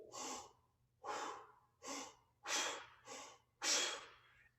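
A trombonist draws six deep diaphragm breaths in a row, each a loud, rushing inhale about a second apart with quiet pauses between, close to the microphone over a faint low hum.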